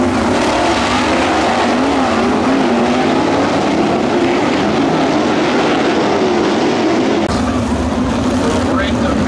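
Sprint cars racing bumper to bumper down the back straightaway of a dirt oval at Waynesfield Raceway Park, a loud continuous engine roar with shifting pitch, a crowd murmur beneath and a sudden change near the end.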